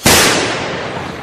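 A sudden sharp gunshot-like crack bursts out loud and close, then decays into a long ringing, crackling tail, set in a period TV drama about Dutch Brazil as Portuguese forces approach.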